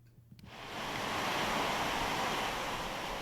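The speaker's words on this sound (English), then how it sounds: "heavy showers have been lashing Hong Kong tonight" Heavy rain showers pouring down in Hong Kong during a black rainstorm warning, surging in after a short lull into a loud, dense, steady hiss with no talking.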